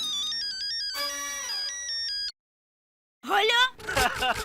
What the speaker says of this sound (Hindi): वो कुटकुटिया का फोन है,